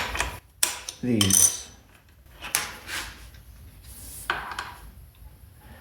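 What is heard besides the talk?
fly press setting heads on copper rivets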